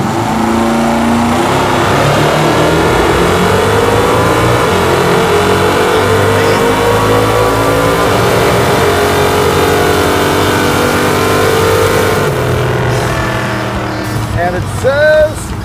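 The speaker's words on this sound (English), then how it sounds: "This thing is leaving hard on the nitrous, but unfortunately, it's also spinning the tires and slowing me down" A Hemi Super Bee drag car on nitrous launches hard with its tires spinning, and the engine roars loud and close for most of the run. Near the end it drops off to rattles and clunks while a person talks over it.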